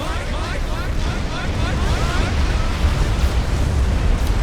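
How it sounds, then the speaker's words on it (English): Dense, continuous rumbling of artillery explosions in the real-time strategy game Supreme Commander Forged Alliance, a loud, sustained barrage with overlapping blasts and no talking. "explosive weapons cause explosions"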